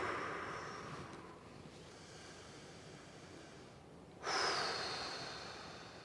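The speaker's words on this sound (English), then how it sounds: "And I'm breathing." Breathing during a quad stretch in a lower-body strength workout: soft, faint breaths, then one deeper, sharper inhale-exhale near the end.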